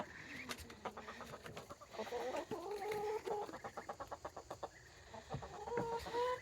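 Chickens on a homestead cluck close by in short repeated bursts and rhythmic pulses, several hens overlapping with a few rising calls, fairly quiet against the outdoor background.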